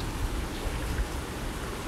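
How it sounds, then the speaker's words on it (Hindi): Steady heavy rain pours without a break in Karnal, India, a dense, even hiss of falling water with no other sounds. "अभी भी बारिश करनाल में बहुत ज़्यादा आ रही है"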